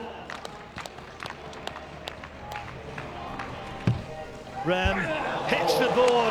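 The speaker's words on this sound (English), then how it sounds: "you can hear the oohs and ahs of the crowd" Crowd at a long jump event at the 2016 IPC Athletics European Championships in Grosseto, rising into rolling oohs and aahs near the end after a run-up with footfalls, under a commentator's voice.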